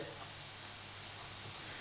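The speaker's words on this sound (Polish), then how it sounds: "kotleciki na patelni się smażą" Meatless pea cutlets fry in a pan, giving a steady, even sizzle that holds without a break and with no voices over it.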